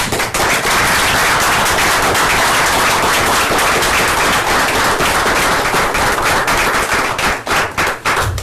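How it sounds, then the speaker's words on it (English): An audience at a town council meeting breaks into loud, dense, sustained applause for a ten-year service award, a steady wash of many hands clapping that thins slightly in the final second. "Would everyone please join me in a round of applause?"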